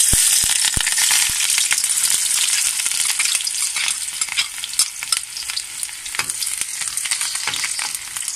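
Chopped onions sizzling in hot oil in a pan over medium heat, a steady loud crackle with occasional stirring scrapes, no talk.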